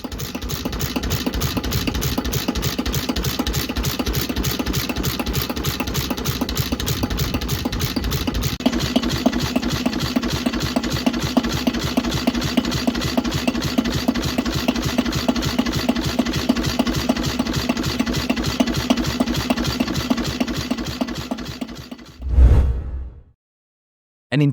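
Old SE type stationary oil engine with a large flywheel and heavy cast-iron parts runs steadily, its even thudding beat loud and close for over twenty seconds before cutting off abruptly, with no talk.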